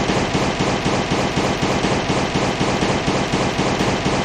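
Rapid, continuous gunfire from a video game weapon hammering a heavy turret in an alpha bunker level, a dense unbroken burst of shots that stays loud and steady throughout.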